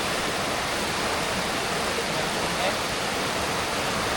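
A river rushing past outdoors, a dense, steady roar of flowing water, loud and continuous, with no clear speech over it.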